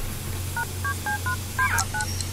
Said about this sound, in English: I'm going to have to phone an actual person to talk to.